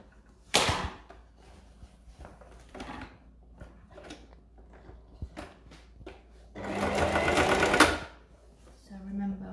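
A sewing machine stitches across oilcloth in short bursts and then one longer steady run, a close mechanical whirring, with someone talking between the bursts.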